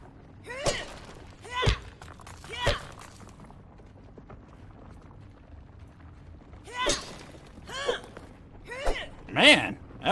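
Quartz smashed with a hammer in the game Grounded gives sharp, bright cracking strikes, three early and a cluster later, separated by quiet gaps, with a voice talking in between.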